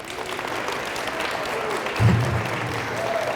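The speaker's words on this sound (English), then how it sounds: "Everybody, round of applause for the clicker." A leadership-series audience at Catholic Central gives a round of applause, a moderate, steady patter of clapping with a brief low thump partway through and faint voices underneath.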